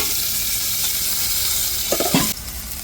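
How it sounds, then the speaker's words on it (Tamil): Tomatoes and chillies sautéing with softened onions in a pan, a steady close sizzle throughout with a few soft stirring scrapes near the end before the hiss drops slightly. "இப்போ தக்காளியும் மிளகாயும் சேர்த்துருவோம். நல்லா தக்காளி வதங்கட்டும்."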